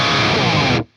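Heavily distorted electric guitar through a Synergy SYN2 studio amp modeler, tuned low for drop tuning, one big sustained chugging chord ringing loud and full for under a second before stopping abruptly.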